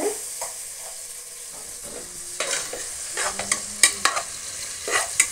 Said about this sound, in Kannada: ನೋಡಿ, ಅದು ಸ್ವಲ್ಪ ಫ್ರೈ ಆಗ್ತಾ ಇದೆ